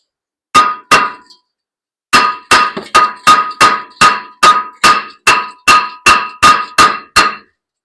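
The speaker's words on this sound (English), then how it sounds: "Let's get a little hammer for that." Sharp metallic hammer strikes ring out against a stuck brake rotor on a Mitsubishi Eclipse GST: two hits, a pause, then a rapid, steady run of about a dozen loud, close clanging blows.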